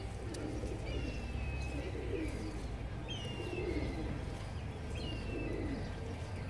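A high-flying pigeon coos softly and repeatedly over a steady background hiss, with a few faint higher chirps from other birds scattered through the stretch and no voices.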